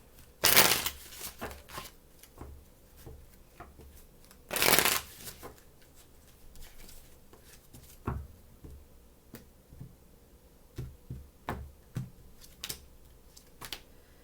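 Tarot cards being shuffled close by: two loud riffling bursts early on, then scattered soft taps and snaps as the deck is handled and squared.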